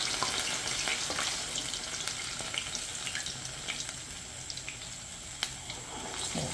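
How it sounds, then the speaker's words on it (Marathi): Vada dumplings fry in hot oil with a dense, steady hiss and fine crackle, a few sharper pops and spits rising now and then close to the pan. "आणि अशा पद्धतीने आपले वडे हे टाकून द्यायचे त्याच्यामध्ये।"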